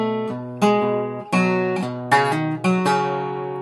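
Acoustic guitar playing measure 61 of a song, a few plucked chords and single notes ringing out in sequence, close and clear with no voices.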